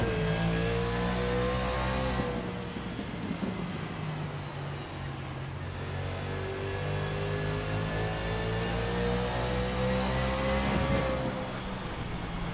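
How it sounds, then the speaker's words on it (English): 1989 Camaro Z28 IMSA GTO race car engines drone loudly in a racing video game at North Wilkesboro Speedway, with a steady high-pitched roar that rises and falls slightly as the cars rev through the lap. "The engines are revving up and the drivers are ready to hit the gas pedal"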